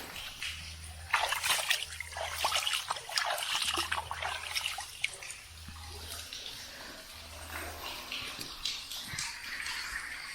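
Water trickles and splashes softly inside a dark cave as a hand dips in and stirs it, light dribbling sounds coming and going over a faint steady drip-like background.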